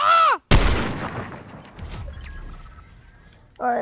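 A single sharp, loud shot cracks out in Fortnite, its echo trailing off through the following seconds, bracketed by brief vocal sounds from a player at the start and end.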